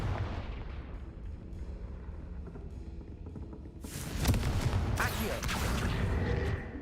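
Confringo blasting spell explosions in Hogwarts Legacy, a loud burst of booms and crackling blasts arriving after a few seconds of low game ambience, sustained and dense to the end.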